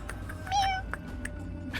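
A cat meows once, close and clear, over a steady low background hum, followed by a few faint clicks.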